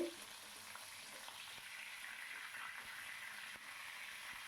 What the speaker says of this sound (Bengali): মাছগুলো ছেড়ে দিলাম দুটো মাছ আপাতত এখন ছাড় মানে ভেজে নেবো